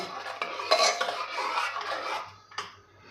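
A spoon stirs moong dal with ghee in a metal cooker pot, scraping and clinking against the sides in continuous close strokes, loud and uninterrupted, with a final knock at the end and no talking.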